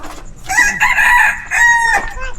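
A labuyo wild junglefowl rooster crows once up close and loud, a short, clipped call with a broken, slightly rising tail, standing alone without talk.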